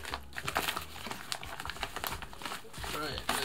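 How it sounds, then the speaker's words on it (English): An unboxing knife slices open a package holding a phone case, with crinkling plastic and scratchy cutting bursts mixed under ongoing speech. "I got my unboxing knife right here."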